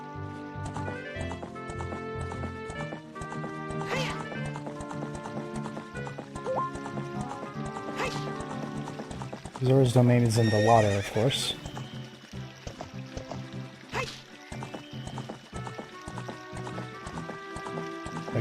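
Horse sounds in a Zelda-style adventure game: a whinny and hooves clip-clopping under steady game music, with someone talking over it throughout.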